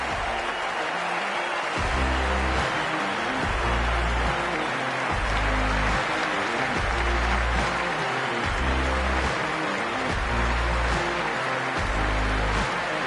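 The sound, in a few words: cricket stadium crowd at the SCG, from a video game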